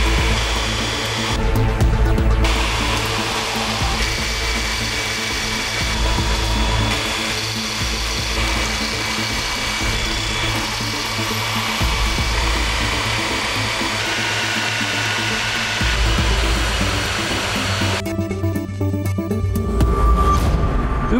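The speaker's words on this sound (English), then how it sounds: "He's just gonna grind these out of some round stock and then apply them later." A power grinder works metal round stock into small spikes for a Viking Dane axe, running loud and steady for the whole stretch with slight shifts in pitch and load and no talk.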